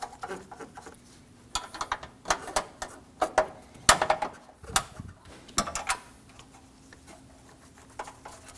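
A ratchet threads in the 10 mm bolts on a Honda's radiator core support while installing a passenger-side A/C condenser cooling fan, giving several short bursts of clicking with pauses between them, close and moderately loud.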